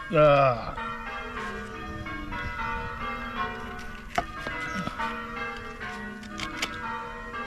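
Church bells ring out in a steady peal with a bright opening strike, their tones sustained and overlapping as the chimes continue outdoors at moderate distance.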